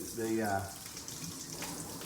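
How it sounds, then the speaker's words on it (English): A kitchen tap runs behind the camera during food washing, a faint, steady rush of water at a distance, with a brief voice at the start. "water rushing behind the camera"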